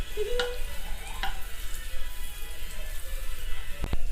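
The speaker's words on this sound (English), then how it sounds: "we need 1 tablespoon of butter. As you can see here, let the butter melt." Butter melting in a pan for white sauce gives a low, steady sizzle with a few soft pops, faint and continuous throughout.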